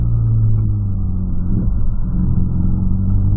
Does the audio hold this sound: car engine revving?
yes